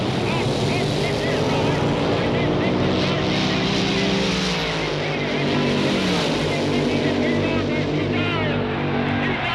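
Drag racing cars at the 1962 Winternationals accelerating hard off the line, a loud continuous engine roar that shifts in pitch as they pull away, with a commentator talking over it.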